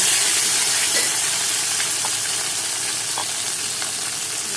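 Boiled taro pieces go into a hot frying pan for a Bengali fish-head curry, setting off a loud, steady sizzling hiss that barely changes from start to finish.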